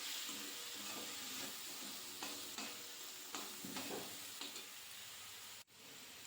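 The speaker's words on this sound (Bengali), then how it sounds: "টমেটোটাকে ভেজে নিতে হবে যতক্ষণ পর্যন্ত না কাঁচা গন্ধটা চলে যায়।" Tomato paste fries in a pan for a jackfruit curry, a soft steady sizzle broken by periodic scrapes and knocks of a spatula stirring, fairly quiet throughout.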